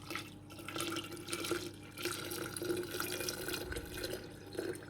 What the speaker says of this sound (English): I'm just going to pour it over the walnuts that have all been pricked with a fork.